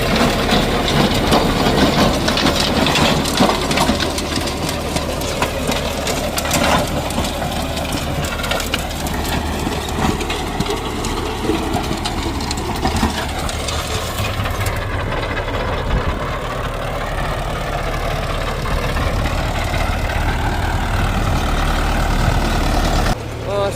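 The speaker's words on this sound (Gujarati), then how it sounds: "ભાઈ ફૂલ દાબમાં ટ્રેક્ટર જે છે ચાલે છે" Tractor engine under full load driving a Dameshvar rotavator in medium first gear at about 1400 rpm, a loud, steady diesel roar with heavy mechanical crushing and rumbling throughout, pitch wavering slightly as the load shifts.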